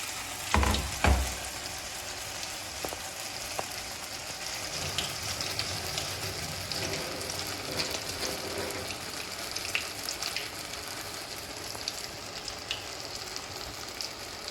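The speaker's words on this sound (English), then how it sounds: "Fry them on medium flame until both sides turn light golden brown and" Banana fritters (Kerala pazham pori) deep frying in oil over a medium flame, a steady dense crackling sizzle throughout with a couple of brief louder thumps near the start.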